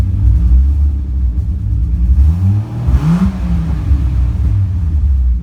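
A turbocharged car engine revs up and settles, its low rumble rising and falling steadily over several seconds with no voices.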